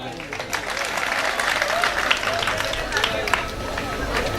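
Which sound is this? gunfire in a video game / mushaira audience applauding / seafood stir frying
mushaira audience applauding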